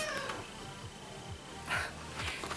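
A house cat meows faintly indoors, a few soft cries under a steady background hiss.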